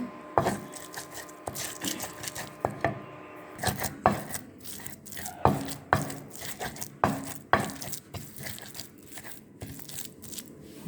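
Boiled bottle gourd leaves are mashed by hand with dried chepa fish, giving a series of close, irregular squishing and crunching presses with short pauses between them. No one talks.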